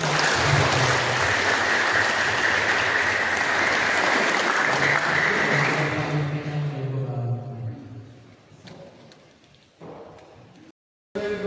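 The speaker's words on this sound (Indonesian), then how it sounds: "Mari kita berikan tepuk tangan" Wedding guests at a church nuptial Mass applaud the newly married couple with loud, full clapping that fades after about six seconds, leaving murmuring voices and room sound.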